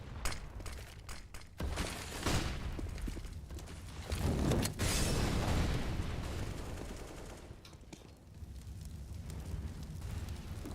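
Grenade blasts and bursts of gunfire in a video game, a dense rumbling run of explosions and shots swelling and fading, no voices.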